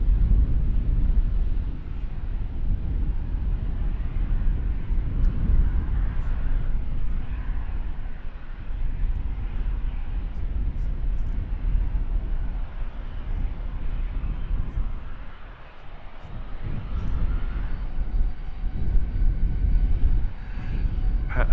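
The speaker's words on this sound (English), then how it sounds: "Patched up Wizz Air making its way to the runway." A patched-up Wizz Air airliner taxis toward the runway at London Luton Airport, its steady engine rumble continuous throughout and partly buffeted by strong wind on the microphone.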